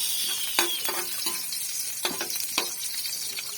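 Upo squash sautés in a pan with canned 555 sardines, giving a soft, steady sizzle with a few faint clinks from stirring scattered through it.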